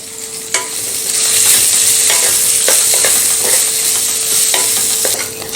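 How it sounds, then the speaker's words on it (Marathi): Vegetables sautéing in a spoonful of oil in a kadhai, a steady close sizzle with scraping spoon strokes and clinks throughout. "याच कढईमध्ये परत मी एक चमचाभर तेल घालते आता आपण या भाज्या यामध्ये घालून घेऊया"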